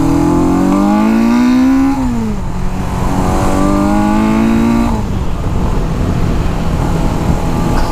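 A cheap auction motorcycle is ridden hard, its engine revving loudly and close, climbing in pitch through each gear, dropping at the shifts near two and five seconds, then pulling again with a rough, buzzing exhaust.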